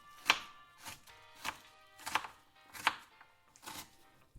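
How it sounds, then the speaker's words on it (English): Knife chopping vegetables on a cutting board, six distinct sharp chops at an uneven, unhurried pace, close and clear with quiet gaps between strikes and no voices. "It's someone chopping vegetables."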